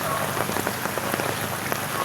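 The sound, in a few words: heavy rain during typhoon Crising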